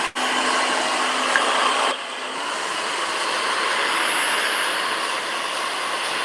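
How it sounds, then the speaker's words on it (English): A hair dryer blowing steadily, a continuous whooshing hum that briefly cuts out at the start and shifts to a lower setting partway through. "It's really important that you keep moving the hair dryer around"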